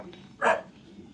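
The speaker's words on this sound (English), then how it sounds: "He was barking at us as soon as we were gone." A single short dog bark rings out on a Colombian coffee farm, close and sharp against a quiet background.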